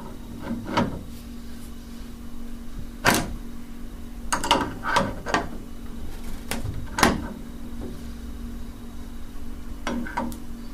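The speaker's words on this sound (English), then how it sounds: "And then take the adjustable wrench." An adjustable wrench tightening a bathtub faucet during a leak repair, heard as irregular close metallic clicks and clanks spread through the stretch, with no voices.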